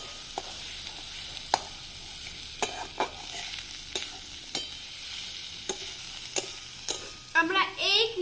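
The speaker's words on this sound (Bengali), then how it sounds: "সো গাইস, আমরা ভালো করে এবার ভেজে নেব।" Food fries in a pan with a steady sizzle and repeated sharp clacks of a spatula stirring against the pan, with a voice chattering briefly near the end.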